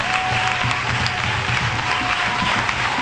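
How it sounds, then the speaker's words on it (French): A church congregation applauding the Lord, steady dense clapping from a crowd that fills the room, loud and continuous throughout. "Acclamez encore le Seigneur pour ce soir."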